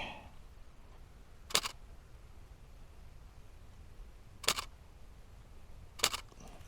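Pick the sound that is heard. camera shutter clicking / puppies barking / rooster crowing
camera shutter clicking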